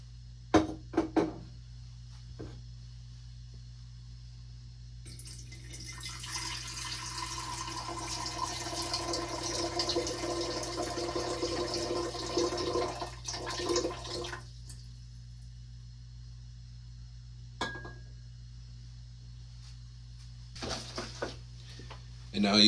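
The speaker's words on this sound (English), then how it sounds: "I'm going to measure out about 300 milliliters of silver nitrate solution and pour it into this evaporating" About 300 millilitres of silver nitrate solution being poured into an evaporating dish, a continuous close liquid splash and trickle lasting several seconds, with small clinks before and after.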